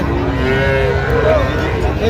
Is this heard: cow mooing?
yes